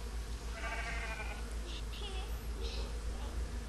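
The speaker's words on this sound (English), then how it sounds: "besides all these sheep" Sheep bleat in the Second Life virtual world, a few wavering, nasal calls in quick succession and then fainter ones, set against a constant low background hum and ambient game noise.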